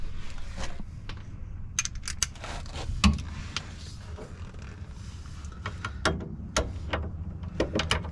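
A wrench working loose the 17mm nut on a Honda Accord rear strut, giving a series of sharp, close ratcheting clicks and metallic taps scattered in bursts over a low background hum.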